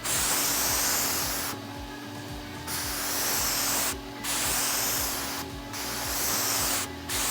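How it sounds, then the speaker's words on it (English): A spray gun spraying a coating hisses loudly in long bursts, with several short pauses between passes and one brief gap near the end. "Let's see if I can demonstrate the swing without spraying over everything."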